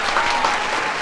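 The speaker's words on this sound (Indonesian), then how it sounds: "Tepuk tangan dong guys." Audience clapping fills the room at an iftar gathering, a dense, steady applause that runs from start to finish with no gaps.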